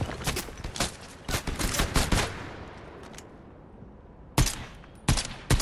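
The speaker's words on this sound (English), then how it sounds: "You were shooting at me" Video game gunfire: rapid bursts of automatic shots, a short lull, then a few more sharp shots close and loud.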